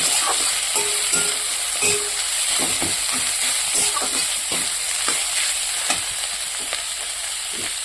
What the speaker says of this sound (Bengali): এবার আমি মূলো শাকটা দিয়ে দেবো মূলো শাকটা দেওয়ার পরে একটু নাড়াচাড়া করে নেব